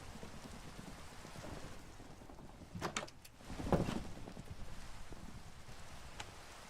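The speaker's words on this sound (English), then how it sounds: "Oh, thunderstorm, we can sleep." Steady rain hisses through a Minecraft thunderstorm, broken midway by a single low rumble of thunder that swells and fades, with no talking over it.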